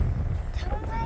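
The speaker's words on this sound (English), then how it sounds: "it's bitter cold and super windy" Strong, bitter cold wind roars and buffets the microphone in a continuous low rumble, close and loud.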